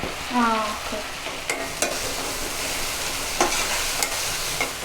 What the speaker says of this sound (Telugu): కొంచెం అంటే సాఫ్ట్గా అయిపోయేంత వరకు వేపుకుంటే చాలు కదా